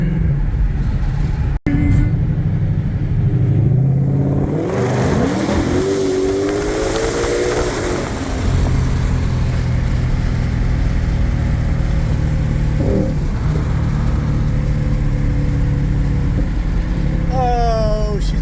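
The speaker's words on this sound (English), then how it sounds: "Get a little exhaust note out of her." A Ford GT500 engine revs up and runs steadily, its exhaust note rising and swelling through the middle of the clip, then settling into a loud sustained rumble. A brief voice is heard early on.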